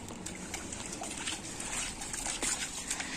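Water running out of a tank through a pump: a steady trickling and splashing stream, close and continuous, with small spattering bursts.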